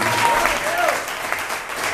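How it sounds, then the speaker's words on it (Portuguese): A congregation claps together at a night worker-anointing service in a church, giving a dense, steady wash of applause while a voice carries faintly on top. "Aplauda o Senhor."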